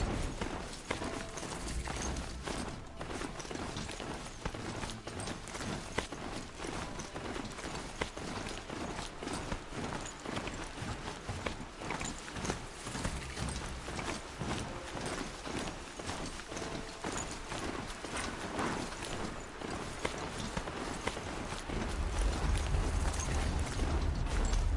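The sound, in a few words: horse hooves galloping in video game Horizon Zero Dawn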